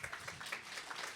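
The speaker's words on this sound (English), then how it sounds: "Applause." An audience at a conversation event with Colorado Governor John Hickenlooper gives faint, distant applause, a thin scattering of claps that rises and falls in soft pulses.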